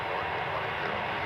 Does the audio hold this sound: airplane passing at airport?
yes